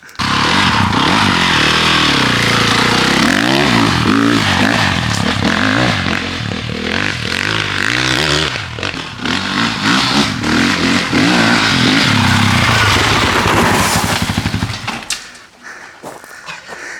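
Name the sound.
motorcycle riding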